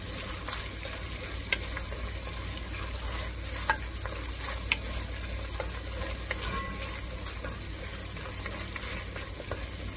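Creamy chicken soup with garlic is stirred in a pot, a soft continuous scraping and bubbling sizzle with occasional faint clicks of the utensil, close and quiet.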